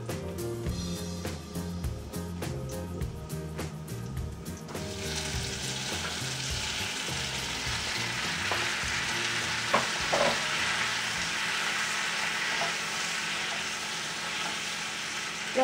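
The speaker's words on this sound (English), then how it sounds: "you're going to add the tomatoes in here." Loud, steady sizzling and crackling of tomatoes frying in oil in a pan, with occasional stirring clatter and scraping near the start, no talking.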